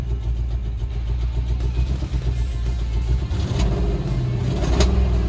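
A 1997 Land Rover Discovery engine running with a misfire breakup, a steady close rumble with uneven stumbles and rough pulses, loud and without talk.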